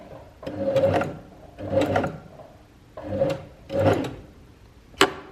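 A domestic sewing machine back stitching in four short mechanical bursts, each a rapid whirring run of the needle, separated by brief pauses and ending with a sharp click as the lever is released, close and clear with no talk.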